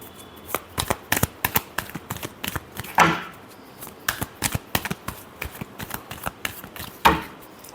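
A deck of tarot cards is shuffled repeatedly by hand, producing a steady run of crisp, riffling slaps and clicks, close up with no talking.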